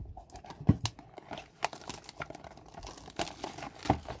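Crinkling plastic wrap and cutting as two 2021 Upper Deck Goodwin Champions trading card blaster boxes are opened, with a steady rustle broken by a few sharper crackles and snips close by.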